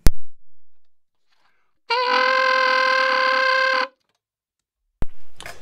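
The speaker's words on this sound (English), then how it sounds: "it's a more dramatic growl that sounds like this" Growled saxophone tone, the player buzzing the tongue while blowing, holds for about two seconds as a loud, rough, distorted buzz, framed by short bumps and silence.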